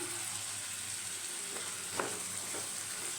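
Chopped carrots and potatoes frying in a pan with a little flattened rice, for a homemade singara filling: a steady, close hiss of sizzling oil with a few soft stirring clicks, and no talking.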